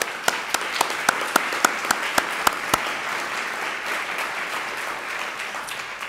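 Applause from an audience at an academic migration-research conference, honoring the network office staff: a few distinct sharp claps at first, then a steady, moderately loud wash of clapping from many hands with no talk.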